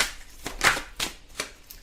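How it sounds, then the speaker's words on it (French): Oracle cards shuffled by hand in a quiet room, giving several short papery riffles and slaps at an uneven pace, close and fairly soft, with no voice over them. "Je vais prendre quelques cartes de l'oracle G."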